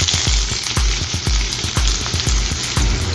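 Chopped onion sizzles in hot olive oil in a pan while cooking a fish curry, a constant bright hiss broken by regular knocks of stirring, close and alone without voices.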